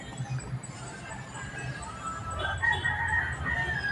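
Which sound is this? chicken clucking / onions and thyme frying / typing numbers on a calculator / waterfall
chicken clucking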